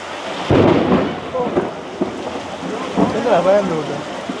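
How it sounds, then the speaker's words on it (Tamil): Heavy rain with rolling thunder breaks in suddenly and stays loud and close, rumbling through the whole stretch while voices talk underneath. "பயங்கர மழை பெய்துட்டு"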